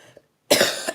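A sick person's cough: one short rough burst near the start, then after a pause a loud, close, sustained hacking fit of several coughs.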